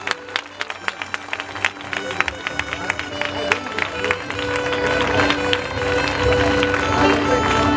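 An audience applauds at an outdoor church worship and stone-laying gathering in Medchal, Hyderabad, with scattered claps at first that swell into steady, sustained clapping and crowd murmur.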